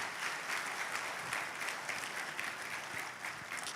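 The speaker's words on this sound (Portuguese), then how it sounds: "Dá um aplauso ao Senhor Jesus." A church congregation claps for Jesus during a sermon, producing a sustained, even wash of many hands applauding together that stays strong from start to finish.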